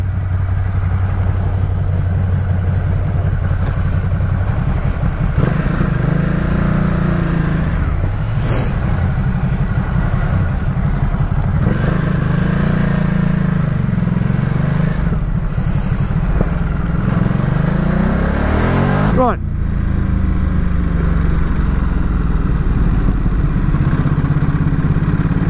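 A 2017 Ducati SuperSport S or Monster 1200 being ridden, a loud, continuous engine drone from close by with wind rush, the pitch rising and falling as the rider shifts and accelerates.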